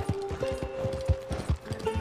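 Horse hooves clip-clop in Red Dead Redemption 2 in a steady, close, loud trotting rhythm, with sustained tonal game sounds running underneath.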